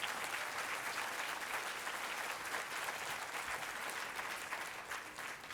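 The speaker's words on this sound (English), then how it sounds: "Let's give our guests one big round of applause." An audience at a Lakewood community celebration gives a steady, moderately distant round of applause for guests, including members of a Los Angeles County fire station.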